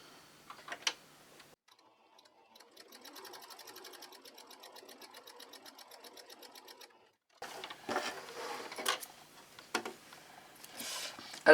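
Sewing machine stitching patchwork blocks, a steady run of rapid needle clicks for several seconds after faint handling noises, then rustling fabric and a few sharp knocks.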